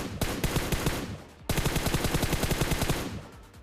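Rapid bursts of M4 rifle fire in PUBG, two long volleys of sharp cracks with a brief gap between them, loud and close.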